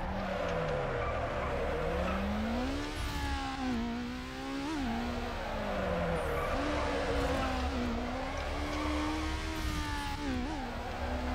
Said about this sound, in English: We're gonna drift a bit.